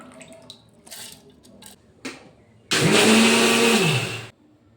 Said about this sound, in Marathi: चला आपण आता मिक्सरमध्ये बारीक करून घेऊयासाठी आपण तांदूळ आणि उडदाची डाळ बारीक करून घेऊया